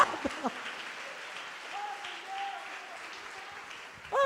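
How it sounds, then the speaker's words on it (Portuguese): A church congregation applauds at a sermon, a steady wash of clapping that runs through the whole stretch at moderate level, with a few voices near the start and end. "Gente, aplaudam o Senhor, dêem glória a Deus."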